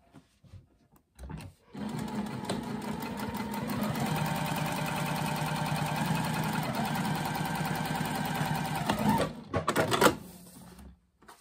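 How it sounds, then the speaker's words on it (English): A sewing machine runs a second stitching row along the bottom of a fabric laptop sleeve, whirring steadily and close for several seconds after a few short starts, then slowing with a couple of uneven bursts before stopping. "I'm just going to add another stitching row right here, 1/8 from the bottom of this piece."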